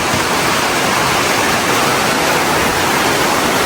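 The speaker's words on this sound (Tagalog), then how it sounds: "Grabe po, ang lakas ng ulan." Heavy rain pours down during a storm with flooding, a dense, constant roar of broadband hiss, loud and unbroken throughout.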